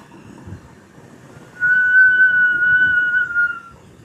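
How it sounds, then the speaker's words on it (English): A high, steady whistle starts abruptly and holds for about two seconds before fading, over a faint crackling background. "that's a whistling ghost"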